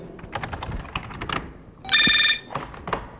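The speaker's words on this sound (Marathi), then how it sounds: "फोन घे, फोन" A telephone rings once in a home, a short bright electronic trill amid clicks and small knocks, with no voices during the clip.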